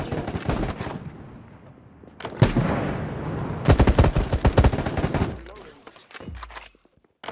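Rapid sniper and automatic gunfire crackles through an online control-point match of the video game Battle Prime, with loud bursts of shots clustered in the middle, a quieter stretch before it, and a voice talking over the action.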